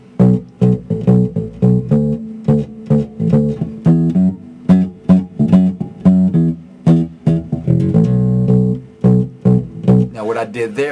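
An electric bass guitar plays a groove with variations, punchy plucked notes in a steady funky rhythm with short muted gaps and accents, close and loud, ending in a quick run of higher notes.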